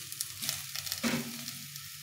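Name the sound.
tomato added to vegetables frying in a pan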